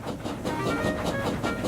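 Three tank engines coupled together, Thomas, Duck and Percy, slowly pulling a train away, with a steady, loud rumble of wagons and rhythmic clickety-clack close by, without any voices.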